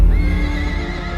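A cavalry horse of ancient Tamil commanders gives a loud, close whinny with a faint hoof beat beneath it, all within a brief burst.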